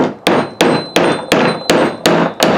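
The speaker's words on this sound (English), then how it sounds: "hold the hammer way back here. Go straight down." A hammer drives a nail with seven sharp, evenly spaced strikes about a third of a second apart, each a loud close metallic bang that rings briefly before the next blow.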